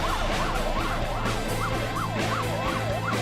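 An ambulance siren wails in a steady rising-and-falling sweep, loud and continuous, over the low rumble of busy traffic.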